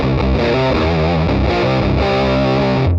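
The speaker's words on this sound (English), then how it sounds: "So here's the fuzz." Electric guitar played through a stock Big Muff Pi fuzz pedal, a thick, heavily distorted sustained tone with chord changes, loud and continuous throughout with no talking.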